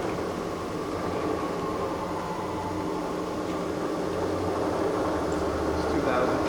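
Trak 3-axis CNC bed mill with an R8 spindle running steadily in high gear near 2,000 RPM, a constant whirring hum with a low motor drone, with people talking over it.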